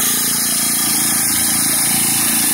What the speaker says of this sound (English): So that's my new weeder, a Honda GX35, 35cc, 4-cycle, 4-stroke